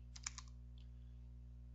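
A few quick keystrokes on a computer keyboard, entering XSL programming commands, heard as a short burst of light clicks near the start over a steady electrical hum.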